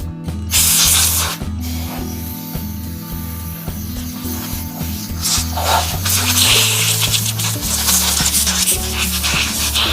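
A wooden shaving brush on a woodturning lathe being blown out with a steady, loud hiss of air that runs the whole time over low, humming mechanical tones.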